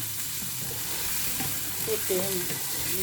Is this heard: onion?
yes